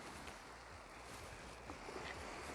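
Soft waves lap a wet-sand beach in a steady, faint wash, with light wind noise on the microphone and no voices.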